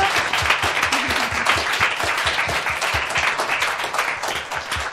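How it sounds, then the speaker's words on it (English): Steady audience applause fills the room after a talk on corporate strategies for animal welfare, many hands clapping densely and evenly at moderate loudness with no voices over it. "Can everyone please give a round of applause?"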